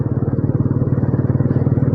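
A motorcycle engine runs steadily while riding on a road in Himachal, a loud close rhythmic thumping putter with fast even pulses and no talking over it.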